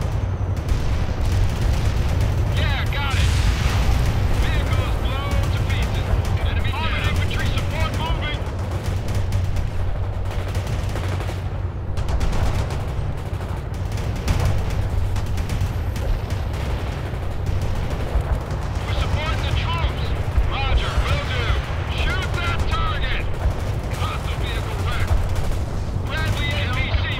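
Battle in the World in Conflict real-time strategy game, with near-continuous gunfire, machine guns and explosions as tanks and vehicles fight, loud and dense throughout, with players talking over it.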